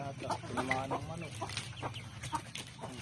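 Hens cluck and chatter in short bursts over a busy farmyard background, with voices faintly mixed in.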